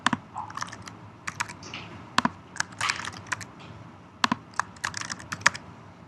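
Close computer keyboard typing comes in short bursts of sharp clicks, separated by brief pauses, as account details are entered.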